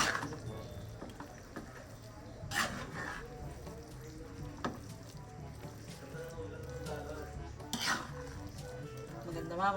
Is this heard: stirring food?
yes